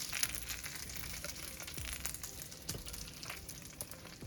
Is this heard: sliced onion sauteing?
yes